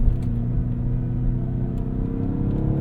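Low, steady rumble of a 2017 BMW X6 M engine and road noise from inside the cabin while driving, constant and close with a faint mechanical creak.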